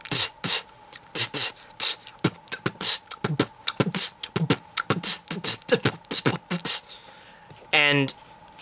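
Voice imitating a snare drum in a beatbox routine, Robeat-style: a rapid series of sharp, hissy clicks and bursts in an irregular rhythm, close and alone, ending in a short squeaky, pitched sweep.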